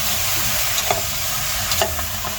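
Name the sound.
sautéing beef ribs with corn in a pan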